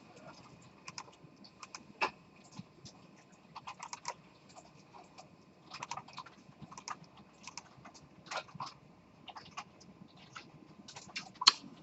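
Someone types on a computer keyboard while writing Python turtle code in a programming class, producing sparse, uneven clusters of light key clicks with pauses between, close and quiet, without talking.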